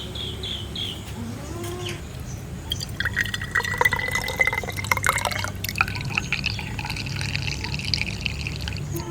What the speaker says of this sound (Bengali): তো আমি ঢেলে নিচ্ছি।